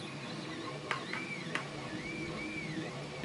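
A 3D printer runs nearby while it prints a camera mount, its stepper motors giving off wavering whining tones with a couple of sharp clicks, steady and moderately quiet throughout.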